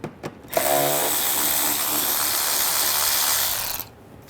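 Ratchet with an 8mm socket loosening screws on a BMW 535i xDrive 3.0L L6 engine bay, a steady continuous rapid ratcheting whir lasting about three seconds, close and fairly loud, with no talking.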